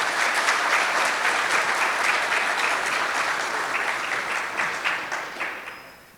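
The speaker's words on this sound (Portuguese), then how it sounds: "Peço uma salva de palmas para os nossos convidados, por favor." Audience at a road conservation conference applauds the guests, loud sustained clapping in a hall that gradually thins and tapers off at the end.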